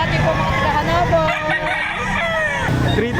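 Roosters crow at a Saturday chicken market behind SM City Lipa, Batangas, with several drawn-out calls overlapping nearby over a bed of crowd chatter, occasional clucking and faint traffic.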